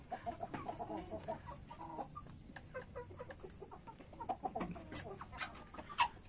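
Chickens in a breeding coop, formerly free-range, give a run of soft, repeated clucks close by, with scattered scratching and rustling in the background.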